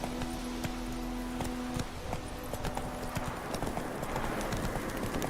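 A horse trots in The Witcher 3 video game after being spurred, its hooves making brisk, continuous clip-clop beats that stay close and loud from start to finish.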